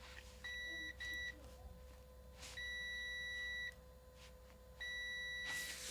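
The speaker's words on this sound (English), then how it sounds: "So just test for continuity." A multimeter gives a continuity test beep while a pedalboard cable is checked, three clear high-pitched tones of varying length separated by gaps, over a faint steady background hum.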